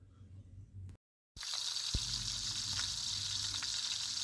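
Flour-coated fish hits hot oil and settles into a steady, bright sizzle of frying that carries on unbroken after a brief drop to silence.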